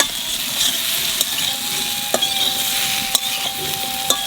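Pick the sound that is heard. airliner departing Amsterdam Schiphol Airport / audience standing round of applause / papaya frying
papaya frying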